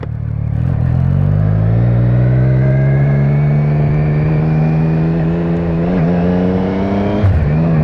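A Triumph Street Triple S 660 motorcycle, still in break-in and fitted with an SC Project carbon silencer, rumbles loud and close with a rich, steady engine note. The pitch climbs gradually, with a couple of short throttle blips near the end.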